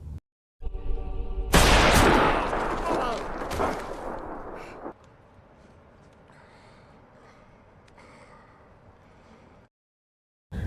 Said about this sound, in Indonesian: Jimmy langsung menembak dirinya